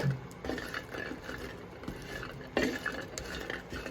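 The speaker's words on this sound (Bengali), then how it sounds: "এখন এর ভিতর আমি কাঁঠালের বিচিগুলো দিয়ে দিচ্ছি" Jackfruit seeds are stirred on a hot tawa with a wooden spatula, giving soft scraping and knocking strokes over a faint background, fairly close.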